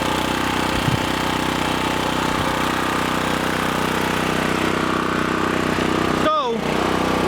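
A portable generator engine runs steadily after Hurricane Sandy, a loud continuous mechanical hum that ends in a brief descending whine, with someone speaking over it.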